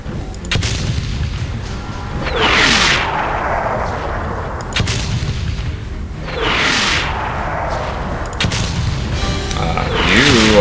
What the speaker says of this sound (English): Now we switch to the mortars.